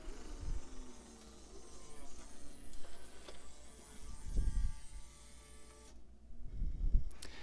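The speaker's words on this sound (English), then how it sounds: "The disc now spins in reverse, and our laser is now on top of this carriage." A Pioneer laserdisc player switches to side B, its laser carriage moving to the top as the disc reverses, a steady mechanical whir and hum with a few soft thumps from the mechanism.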